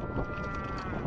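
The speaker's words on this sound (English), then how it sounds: "Sheep everywhere in Scotland" A single sheep bleats in a drawn-out, wavering cry in Scotland, a little distant, over a faint rush of wind.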